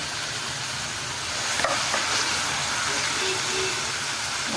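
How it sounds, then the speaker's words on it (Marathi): Finely chopped onions sauté in two ladles of oil in a kadai, giving a steady frying hiss with a few faint stirring scrapes partway through. "कांदा चांगला परतून घ्यायचा."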